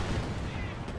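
A smoke barrage of artillery fire in the video game Company of Heroes 2 makes a dense, continuous low rumble of distant blasts that blur into one another.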